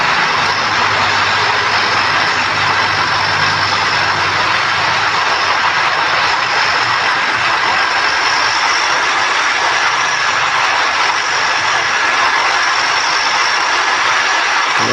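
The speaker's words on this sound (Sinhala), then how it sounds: "මේ ප්ලේන් එකෙත් මේ එන්ජින් ටික ඔන් කරගත්තා" Steady, loud turboprop-engine drone in a flight simulator video game, with a high whine on top, continuous and unchanging throughout, close and dominant with no voices.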